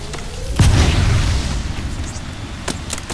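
A grenade explodes in the Apex Legends shooter game, a single loud close boom with a heavy low rumble that decays over a couple of seconds, followed by a few faint sharp pops.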